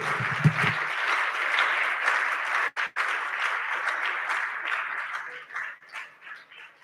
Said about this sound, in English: Please don't stop clapping.